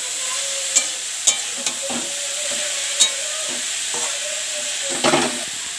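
Cabbage sizzles loudly in a hot pan with chilli powder while a utensil stirs it, sharp scraping knocks landing at irregular intervals over a constant frying hiss.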